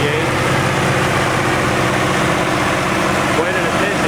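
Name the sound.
International Harvester 1468 tractor engine revving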